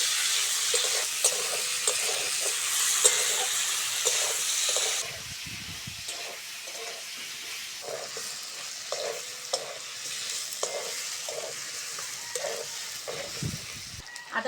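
Chopped onion and tomato fry in a pan with already-fried potatoes, a steady bright sizzle that softens midway, followed by repeated light spatula taps and stirring against the pan.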